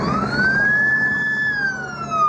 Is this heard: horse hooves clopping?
no